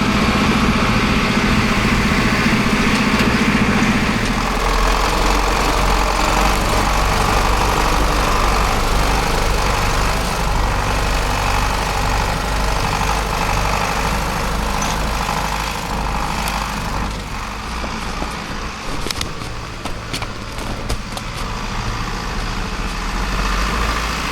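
A heavy diesel tractor engine idles loudly and continuously nearby in a forest, a low steady rumble with a slight shift in tone partway through.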